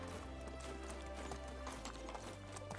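A horse gallops in the video game Medieval Dynasty, rapid rhythmic hoofbeats clopping steadily and close over a low background.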